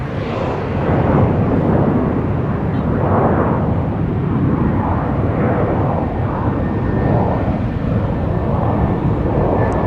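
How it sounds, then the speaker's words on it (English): Alaska Airlines jet taking off on the north parallel runway at Minneapolis–Saint Paul airport, a loud steady broadband engine roar that holds throughout with slow swelling and fading. "Alaska getting airborne on the north parallel."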